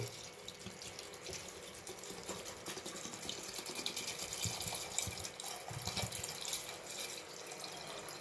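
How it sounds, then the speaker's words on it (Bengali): Water pours steadily into a pressure cooker holding peas and cut potato for ghugni, a continuous close splashing and gurgling stream with no talk. "এবার জল দিয়ে দেব।"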